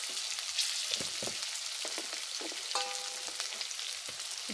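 Tilapia fish and taro frying in a pan while being stirred, a steady broadband sizzle with scattered scraping and clinking strokes of the spoon, close and fairly quiet, no talk.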